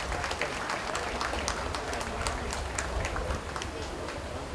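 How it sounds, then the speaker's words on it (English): A county fair crowd gives a round of applause for a 4-H market beef steer class at a 4-H/FFA beef show, with sharp individual claps over a steady, moderately loud patter that continues the whole time. "Please give each of them a round of applause for a nice set of steers."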